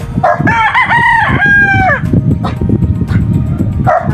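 A rooster on a Philippine farm of gamefowl crows loudly and close by, one long rising-and-falling call, with other crowing and clucking nearby and faint barking behind it.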